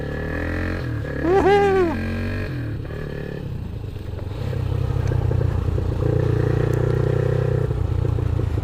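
A Geon Scrambler 300 motorcycle ridden off-road, its engine droning steadily with rises in revs and rattling clatter, heard close and loud with no talking.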